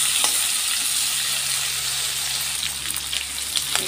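Potatoes and drumsticks frying in a pan, giving a continuous, even sizzle at moderate loudness with a low steady hum underneath and no talking.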